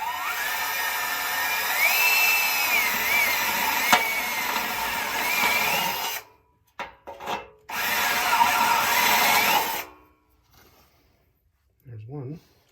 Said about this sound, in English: So we're going to drill right in the middle of that grease dot